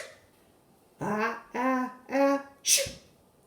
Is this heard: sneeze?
yes